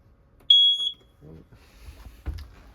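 A smoke detector mounted overhead in a 2008 Keystone Cougar 27RL travel trailer lets out a single short, shrill beep, followed by quiet room noise and a soft thump.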